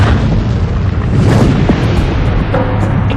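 A deep, sustained rumbling boom of giant objects slamming into the early Earth, loud and continuous with rolling low-end crashes and no voices.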